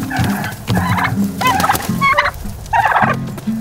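Several turkeys gobble and chatter inside a farm sanctuary hutch, loud and close, in repeated overlapping bursts with no one speaking.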